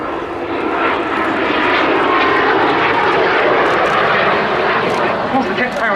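A pair of BAC Strikemaster jet trainers performing a rolling display at an air show, their engines roaring loud and steady throughout with a broad rushing drone, while a commentator talks over the noise.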